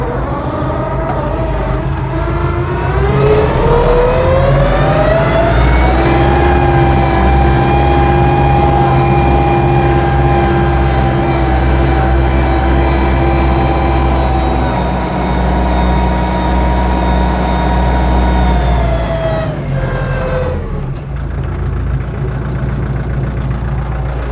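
A walk-behind tractor engine tilling soil in a cabbage field revs up, holds a loud, steady high drone for over ten seconds, then drops back, heard close and continuous throughout.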